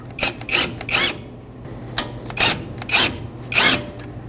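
Ratchet tightening caliper bracket bolts on a 2015-2020 Ford F-150 front brake, several short rasping ratchet bursts in a loose rhythm, close and clear with a low hum underneath.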